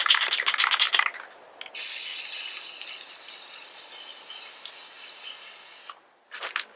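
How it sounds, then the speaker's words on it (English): An aerosol spray paint can hisses steadily for about four seconds while garden decorations are coated, a loud close spray framed by short rattling and handling noises before and after. "And I'm just going to keep on spray painting these and do a whole row."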